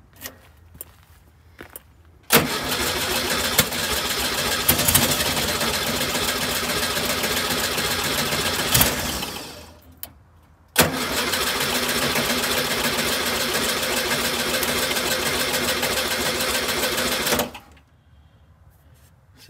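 Volkswagen Thing engine cranking over on the starter in cold weather, two long steady bursts of fast rhythmic churning, each several seconds long, close and loud with short pauses between.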